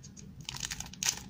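A Panini FIFA365 2019 trading card pack is torn open up close: quick crinkly rips and crackles of foil wrapper, quiet and brief, ending in a sharper tear, with no voices.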